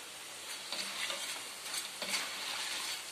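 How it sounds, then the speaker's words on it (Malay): Breadfruit chips fry in hot oil with a steady hissing sizzle, broken by a few soft stirring scrapes. "goreng keripik sing, keripik sukun"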